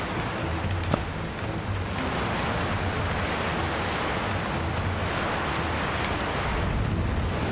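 Stormy ocean waves surging around a longship in a naval video game, a continuous loud roar of surf and wind with a few faint clicks, no talk over it.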